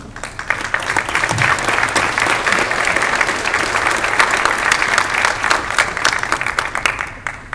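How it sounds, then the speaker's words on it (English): Loud, dense applause fills a school board meeting room, sustained and even from start to finish without pause. "Members of Lucas' family, please stand so we can give you applause and know you're here."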